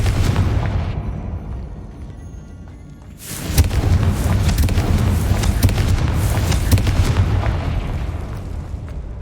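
A Confringo blasting spell explodes in Hogwarts Legacy: a low rumble builds, then a loud, close blast erupts partway through and carries on as a sustained crackling, rumbling roar of breaking rock.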